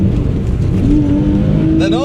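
Mid-engine Porsche sports car revving hard, a loud continuous engine roar with rising pitch sweeps toward the end, close and sustained throughout.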